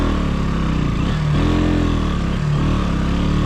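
A motorcycle labours up a steep, rough, rocky road on a ride to Kalinchowk, its engine a loud, close, continuous drone that swells slightly in pitch and strain.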